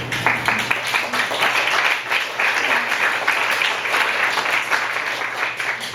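Audience applause at a book launch, a dense, continuous patter of many hands clapping close by, sustained at even loudness throughout.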